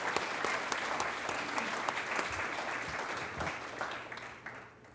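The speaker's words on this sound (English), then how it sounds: "Round of applause for Mary Ellen." Round of applause at a school board meeting for a retiring staff member, dense sustained clapping from a roomful of people that thins and fades out toward the end.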